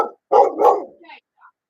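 A dog barks close and loud in a vet setting, giving one brief yip and then two rough barks that trail into a faint whimper.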